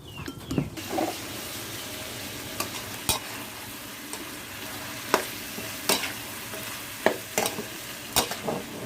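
Pork stir-fries in a hot pan with a constant sizzle, broken by repeated sharp scrapes and knocks of a spatula tossing the meat, close up with no talking.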